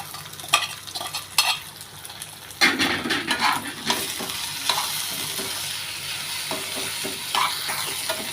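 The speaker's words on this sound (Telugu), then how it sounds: "ఇప్పుడు రొయ్యలు కూడా వేస్తున్నాను. 2 కలిపి వేయించాలి కదా." Prawns frying in oil with ginger paste and onions for a prawn gravy curry, a steady sizzle broken by repeated scraping stir strokes and clinks of a spoon against the pan, close and clear with no talk.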